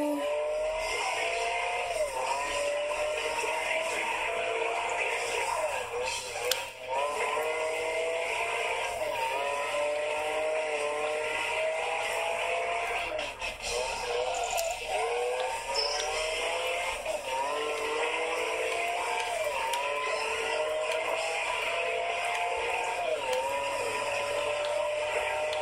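Engine of a car in a racing video game, revving in repeated rising sweeps as gears shift, steady and moderately loud with no talk over it.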